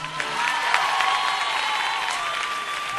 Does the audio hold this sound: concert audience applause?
yes